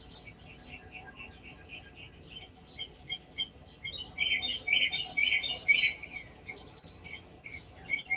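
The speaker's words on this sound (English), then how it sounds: "the birds are not camera shy this morning" Morning birdsong outdoors, several birds chirping and trilling in quick repeated phrases, fairly close and clear over a quiet background, busiest toward the middle.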